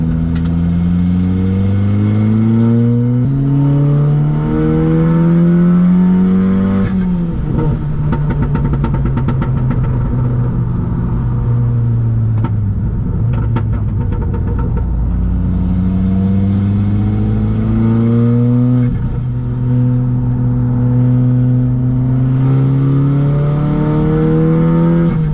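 A 336 hp VW Polo GTI accelerating hard on a race track at Le Luc, engine note climbing through several gears with sharp shift breaks and crackling bursts mid-run, loud and close from onboard.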